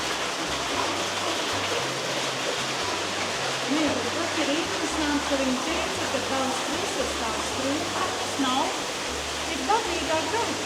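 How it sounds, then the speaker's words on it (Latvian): Waterfall pouring inside the Sibyl's grotto at Villa Gregoriana, a steady broadband rush of water filling the cave throughout, with faint voices now and then underneath. "grotā iekšā ir ūdens kritums."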